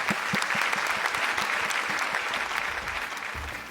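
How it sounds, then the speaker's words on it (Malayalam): A studio audience on a Malayalam television reality show for housewives applauds: a steady run of many hands clapping close by, thinning slightly toward the end, with no talking. "അപ്പൊ മമ്മിക്ക് വേണ്ടി എല്ലാവരും ക്ലാപ്പ് ചെയ്യാം"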